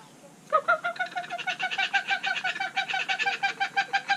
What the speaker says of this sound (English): She's called a laughing kookaburra. So those little chirp,